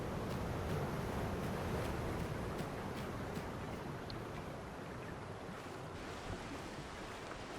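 Ocean waves and wind in a video game, the player stranded in open sea; a steady, soft wash of surf and breeze runs throughout, faint and even, with no talk.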